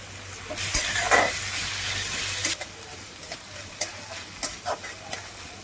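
Ginger, garlic, cabbage, capsicum and carrot stir-frying in a pan for veg fried rice, a steady sizzle broken by repeated sharp scrapes and clatters of a spatula tossing the vegetables.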